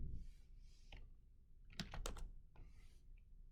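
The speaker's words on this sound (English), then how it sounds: "if I type in admin" A few quick keystrokes tap on a computer keyboard, close and fairly quiet, in a short burst of clicks with pauses before and after.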